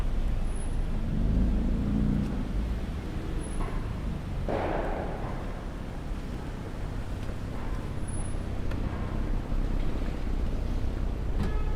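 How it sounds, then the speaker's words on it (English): Heavy car traffic on a Manhattan street makes a steady, dense roar of engines and tyres that holds throughout, with a brief louder vehicle swell early on and no one speaking. "You'll get to see this craziness of car traffic."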